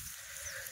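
A goat gives a single brief, faint bleat at a farm, heard alone over quiet background.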